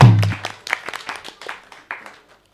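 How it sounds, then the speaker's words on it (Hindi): A small audience at a televised Eid mushaira claps for host Nadia: a loud opening burst, then a few scattered claps that thin out and fade within a couple of seconds. "नादिया के लिए तालियां होनी चाहिए।"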